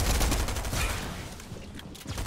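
Gunfire in Fortnite: loud, rapid bursts of shots in quick succession, close and dense, running through the whole clip with no talk.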